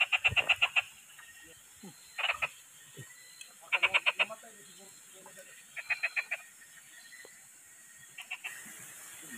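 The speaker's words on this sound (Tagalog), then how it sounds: "May nakita akong palaka dun sa ilalim ng damo." Frogs croak at night in grass, in short bursts of rapid, rattling croaks repeated several times with gaps between, close and fairly clear over quiet background noise.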